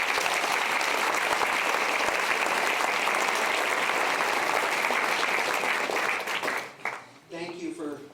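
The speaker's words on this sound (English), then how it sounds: "So let's have applause for all of them." An audience at the Santa Barbara Hillel Hall of Fame ceremony applauds warmly, with steady, full clapping that fades after about seven seconds as a speaker resumes talking.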